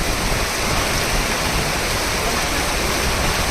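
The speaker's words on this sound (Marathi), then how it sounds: "मुसळधार पाऊस पडतोय मुसळधार पाऊस" Heavy monsoon downpour over roads in a rural town, a dense, loud and unbroken roar of rain with no pauses or voices.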